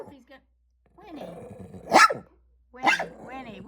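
A dog barks outdoors near a snowy street, giving two loud sharp barks about a second apart after some lower growly vocal sounds, close to the listener.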